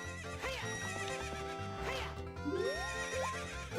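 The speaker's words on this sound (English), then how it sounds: "Here you are, you beautiful horse." A horse whinnies loudly in The Legend of Zelda: Ocarina of Time, a shrill rising-and-falling neigh repeated a few times over a looping game melody with clip-clop hoofbeats.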